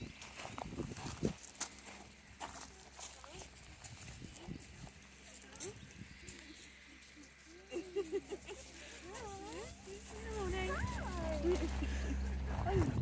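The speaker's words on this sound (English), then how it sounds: "Always with the puppies, huh?" Several puppies whimper and yelp in high, wavering cries at a country estate on the Isle of Bute. A steady low rumble sits beneath them, and people talk now and then.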